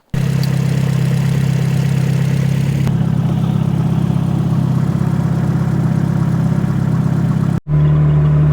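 1990 Honda CRX fitted with a Fluidampr pulley running steadily, a loud, close, even engine drone that holds its pitch with little change, then cuts briefly near the end before resuming.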